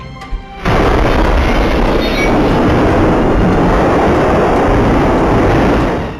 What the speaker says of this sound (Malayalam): ജനൽ ചില്ലുകൾ ഉഗ്രശബ്ദത്തോടെ പൊട്ടിച്ചിതറുന്ന CCTV ദൃശ്യങ്ങളാണ് പുറത്തുവന്നത്